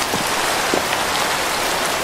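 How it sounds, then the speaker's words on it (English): Steady rain falls in the Minecraft game world, a continuous even hiss with a few soft droplet ticks scattered through it and no other sounds. "It's raining out there."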